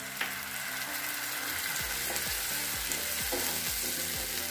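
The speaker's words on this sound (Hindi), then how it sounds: "इसमें अब हम ऐड करेंगे अदरक और लहसुन का पेस्ट।" Ginger garlic paste frying with softened onions in a pan, a close, steady sizzle with repeated low thumps of stirring at a regular pace.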